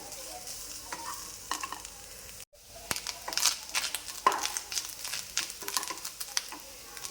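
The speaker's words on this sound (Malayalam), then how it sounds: "അപ്പോൾ ഇതൊന്ന് നന്നായിട്ടൊന്ന് വറുത്തെടുക്കാം ബ്രൗൺ കളറാവുന്നത് വരെ." Grated coconut roasting in a pan until brown for a bitter gourd theeyal, a soft, dry sizzle with frequent close scraping and stirring strokes, fairly quiet and with no talk.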